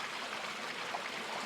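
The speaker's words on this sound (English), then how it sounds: "I'm right next to a babbling brook, a little creek" A small babbling brook on the Redwood Trail among California redwoods, a steady close rush and gurgle of flowing water, even and continuous with no voices.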